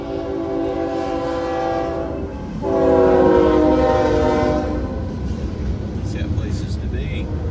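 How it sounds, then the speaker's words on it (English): A passing train rumbles past with a loud, sustained horn blast that swells and holds, then the rumble continues as the horn fades. "There's a train."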